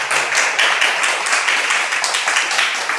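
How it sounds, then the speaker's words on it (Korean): An audience in a lecture hall claps in thanks after a missionary lecture, a steady, fairly loud wash of many hands sustained throughout. "우리 감사의 박수 한번 올려주시면 좋겠습니다"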